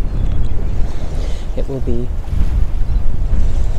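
Waves breaking on a cloudy seaside shore with steady wind buffeting, a loud continuous wash of surf and gusts while a voice briefly speaks over it.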